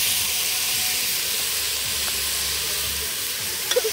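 Onions sizzling and frying in a pot over a camp stove outdoors, a steady close hiss of oil throughout with faint stirring clinks near the end.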